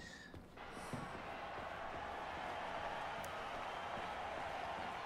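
Steady broadband crowd applause from the early area of the game Atomic Heart fills the whole stretch, a dense wash of many hands clapping with a brief thump near the start.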